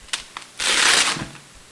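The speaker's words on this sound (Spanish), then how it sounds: "Esta es la bolsa de plástico resellable para contenedor de documentos importantes" A resealable plastic document bag is crinkled and handled, with two brief rustles followed by a louder sustained crackle of plastic lasting about half a second, then fading.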